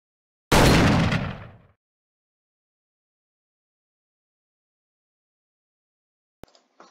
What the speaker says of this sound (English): looks like she did find out how to use the gun, but just tapped the button since the gun is so powerful, it killed me in one shot